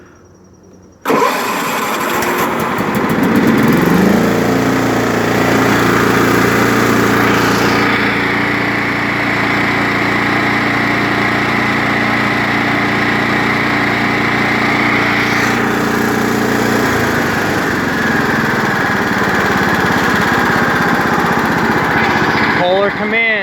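A Kohler Command engine on a 1993 John Deere STX38 lawn tractor starts abruptly after a brief lull and then runs steadily and loudly up close, a constant droning roar with slight shifts in pitch, and a voice talks faintly underneath.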